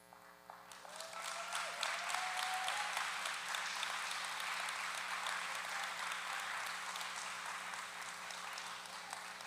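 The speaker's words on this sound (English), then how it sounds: "Mary, we applaud you" Audience at a women's tea event breaking into applause that swells within a second and holds as a dense, sustained clapping crowd, with steady background hum underneath.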